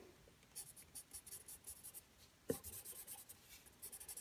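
Pens coloring on paper, soft quick scratching strokes in short repeated bursts, faint and close, with one sharper tap midway.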